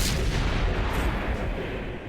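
An artillery tank fires in the World of Tanks console game, a heavy booming blast with a long rumbling tail that fills the whole moment, loud and close with no talking.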